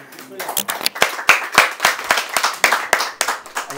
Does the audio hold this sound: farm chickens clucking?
no